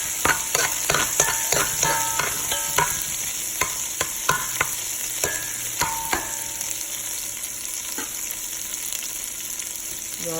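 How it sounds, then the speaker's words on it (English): Rice and beans cooked the Caribbean way in a pot on medium-high heat, stirred with quick clinks and scrapes against the pot over a steady sizzle, close and without voices. "Go ahead and stir."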